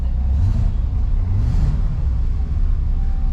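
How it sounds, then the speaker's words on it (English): A GMC truck engine, turbocharged and not yet warmed up, idles steadily with a deep, constant rumble close by. No one speaks over it. "The engine actually doesn't sound bad."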